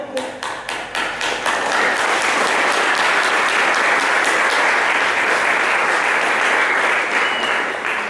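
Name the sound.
church congregation applauding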